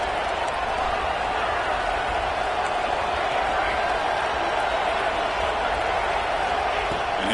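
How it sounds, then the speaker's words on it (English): A college football home crowd in a stadium produces a loud, continuous roar of cheering that holds steady throughout, with a voice talking faintly beneath it. "this home crowd is fired up and ready to make a difference"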